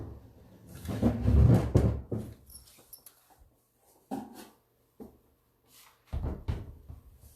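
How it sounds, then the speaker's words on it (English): Wooden drawer pulled out of a dresser: a loud scraping rumble slides for about a second, then softer knocks and bumps follow as it is set down, with quiet gaps between. "I'm going to pull this drawer out so I can do this center and keep moving upwards."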